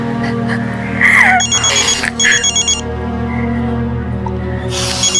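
A telephone rings in short electronic bursts over a steady background hum, with a few trills spaced across the clip.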